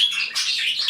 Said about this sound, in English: Oh, the Budgies are screaming.